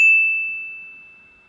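A single bright phone notification ding rings out close and clear, then decays slowly over about a second and a half with no other sound.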